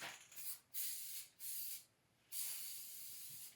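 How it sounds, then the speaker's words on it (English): Several short hissing bursts from a spray can, followed by one longer continuous spray, close up with quiet gaps between. "you got a spray can, and now you can just spray"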